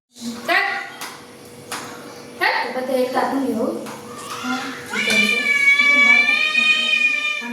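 A cat meows several times, with one long, drawn-out meow toward the end, while people talk and children chatter in the background.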